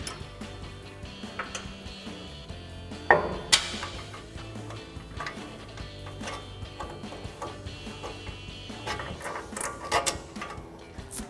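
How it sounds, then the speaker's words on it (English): A socket wrench tightens a 21mm nut on a Ford F-150 front strut during a leveling kit install, giving quick ratcheting clicks in short bursts with a sharper clank partway through, close up and with no talking. "then we'll take a 21mm socket to tighten that down"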